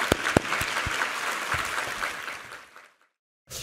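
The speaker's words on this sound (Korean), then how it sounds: "우리 하나님께 감사와 영광의 박수 올려드리겠습니다" A church congregation claps together in a dense, steady round of applause that fades to silence, followed by a brief burst of sound at the end.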